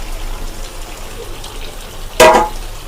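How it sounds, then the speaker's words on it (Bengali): A short splash of water is poured into a pan of cooking mutton and half-boiled potatoes. It is a single brief gush over a quiet background. "খুব অল্প পরিমাণে একটু জল দিয়েছি"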